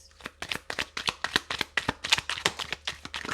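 Tarot cards are shuffled and drawn at close range, a quick, steady run of crisp papery slaps and flicks that keeps going without a break, fairly quiet with no voices over it.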